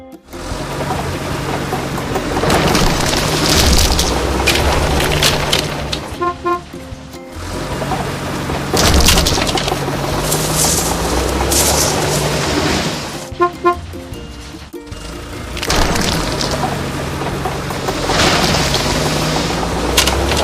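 Cartoon demolition of dilapidated buildings by toy-style construction trucks, an excavator and a bulldozer, with loud crashing booms, rumbling engines and horn-like toots repeating in three bursts of roughly seven seconds each, cut by brief pauses.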